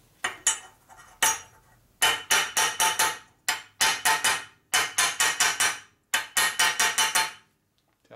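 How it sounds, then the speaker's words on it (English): Rapid bursts of metallic hammer taps on a 1958 Harley-Davidson Panhead engine part, four to six quick strikes per burst, ringing sharply against the metal surface with short pauses between groups. "take a nice smooth hammer, just tap it right on the surface where it's high"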